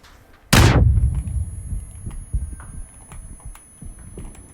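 A grenade blast bursts loudly in a battle-royale shooter game, followed by scattered gunshots and rumbling impacts that continue at lower level over the next few seconds.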